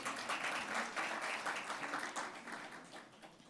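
A conference audience applauds during a government minister's presentation, a faint, steady patter of many hands clapping together that tapers slightly toward the end.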